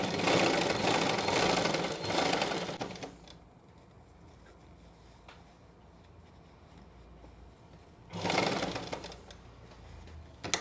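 A sewing machine stitches an elastic pant waistband in two quick bursts of rapid, even chatter, one long run at the start and a shorter one later, with a quiet pause between them.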